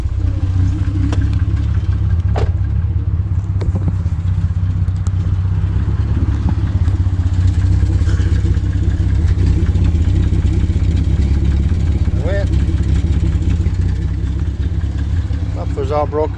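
A manual-transmission car engine with a smashed, broken-apart muffler idles continuously with a loud, deep, rumbling and rattly exhaust drone, steady throughout and close by, with faint clatter over it.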